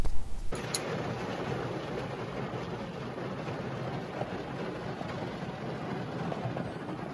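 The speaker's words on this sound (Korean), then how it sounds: "차 안에서 기다리고 있는데 갑자기 소나기가 이렇게 떨어지네요." A sudden rain shower falls on a parked car, heard from inside as a steady, dense patter and hiss drumming on the roof, continuous and even after a brief louder bump at the start, with no voices.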